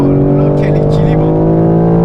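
A BMW M4 CSL engine screams at high revs toward the redline on track, a loud, sustained, steady in-car drone with strong harmonic tones filling the whole moment.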